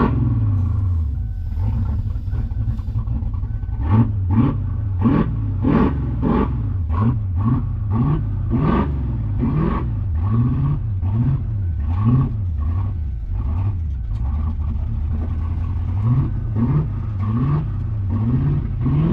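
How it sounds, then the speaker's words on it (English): A 1987 Mustang GT convertible's V8 engine runs as the car moves slowly under its own power, a loud, close rumbling idle with repeated throttle blips and surges throughout. "car is moved under its own power again a little bit"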